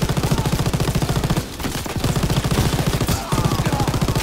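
Sustained machine-gun fire on the beach landing in Call of Duty: WW2, a loud, rapid rhythmic rattle of shots that briefly thins twice before resuming at full intensity.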